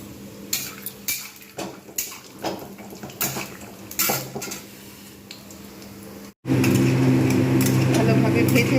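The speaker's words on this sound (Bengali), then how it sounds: "প্রথমে আমি বাদামটাকে ভেজে নেব।" Peanuts frying in hot soybean oil in a pan, first a run of clinking, scraping spoon-on-pan knocks, then a sudden steady loud sizzle and hiss after the nuts hit the oil.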